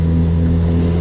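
Honda CB1000R motorcycle engine revving hard, a loud, steady, close roar with a strong low rumble that holds without a break and no voices over it.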